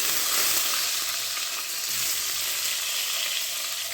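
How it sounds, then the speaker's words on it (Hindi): Eggs frying in a pan with turmeric for an egg masala curry, a steady, close hiss of sizzling oil that fills the whole stretch with no one speaking. "तो इनको 1 से 2 मिनट फ्राई करके मैं निकाल लेती हूँ"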